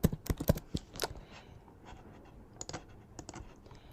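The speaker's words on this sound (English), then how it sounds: "I'm going to click on T on my keyboard and type Clay Studio." Typing on a computer keyboard, with a quick cluster of loud, close key clicks at the start, then quieter, scattered keystrokes and a few more clicks near the end, no talking.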